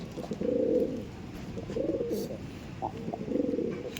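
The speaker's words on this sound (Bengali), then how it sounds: "আমার ঘরেরই পায়রা, পুরনো পায়রা অনেক।" Madrasi pigeons coo in a loft: three soft, throaty rolling coo phrases, close by, with brief quiet gaps between them.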